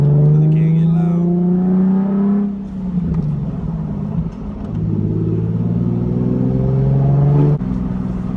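Nissan 370Z fitted with a Tomei Expreme catback exhaust cruising gently through a neighborhood, a deep steady drone that rises smoothly, dips between shifts, then climbs again, with talk over it.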